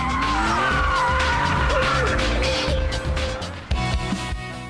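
A Porsche Carrera RS drifting on a wet road, tyres squealing in long wavering whines over a loud engine, followed by a sudden jolt and the roar easing off, with no talking.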